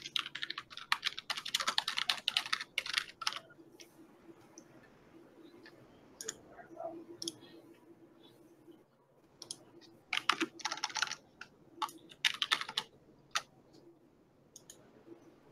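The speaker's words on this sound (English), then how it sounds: "Very soft clickety clack of keyboards." Soft clicking of computer keyboards, quick bursts of light key taps coming in uneven runs with short pauses between, quiet and close in an otherwise calm room.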